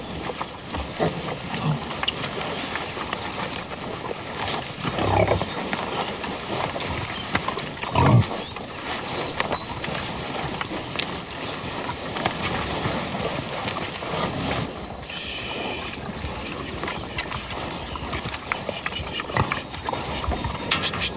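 Pigs grunt and snuffle close by amid a noisy outdoor setting with steady background patter, brief grunts scattered throughout and a louder burst around the middle.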